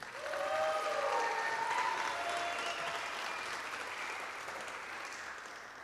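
Audience applause at an awards ceremony for a school team, a sustained burst of clapping that rises quickly and slowly tapers off, heard from a moderate distance.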